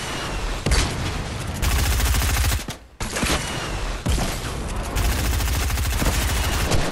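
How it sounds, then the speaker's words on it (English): Close, loud bursts of gunfire in a Fortnite match come in several volleys, with a brief gap near the middle. "I see him. I'm shooting."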